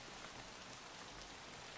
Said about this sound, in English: So it's a little raining here.